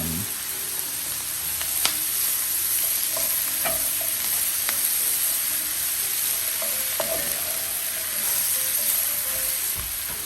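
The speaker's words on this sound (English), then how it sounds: "so we're gonna saute our onions here right now. As well as our mushroom." Onions and mushrooms sautéing in oil, a close, steady hiss of sizzling with scattered light clicks from stirring, continuous for the whole stretch.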